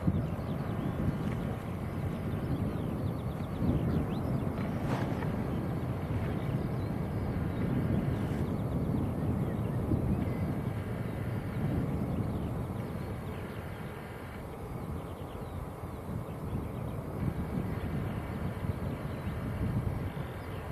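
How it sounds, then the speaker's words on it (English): British Airways Boeing 777-200 airliner passing at Manchester Airport, a steady broad jet engine roar under gusting wind buffeting the microphone, sustained and moderately close throughout. "That is Heathrow to Chicago. And that's a 777-200."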